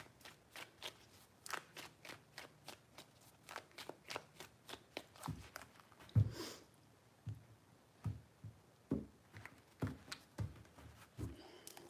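Tarot cards being shuffled in a steady run of crisp, riffling flicks, close and fairly quiet, with a few heavier slaps and taps near the middle and toward the end.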